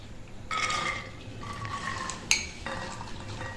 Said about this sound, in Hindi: और ये हैं काले चने बॉयल किए हुए। तो आइए इनको करते हैं मिक्स।